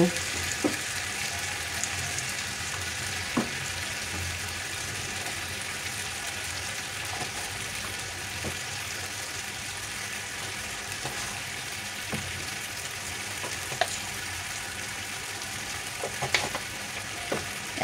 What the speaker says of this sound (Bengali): এখন চিকেনটাকে আমি খুব ভালোভাবে নাড়াচাড়া করে কষিয়ে নেব